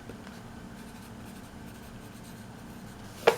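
A pen scratches steadily across paper as tarot card names are written down, a soft continuous close scribble ending in a sharper tap, with no talking.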